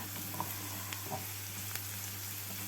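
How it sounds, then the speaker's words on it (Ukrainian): Borscht dressing with paprika fries in a pan, a steady close sizzle with a few soft stirring clicks throughout, no voices. "Засмажка до борщу готується"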